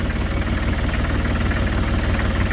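A vehicle engine on a plow truck with chains runs just after start-up and is put in gear. It makes a steady, loud, rough idle with a low knocking pulse close by, and no talking is heard.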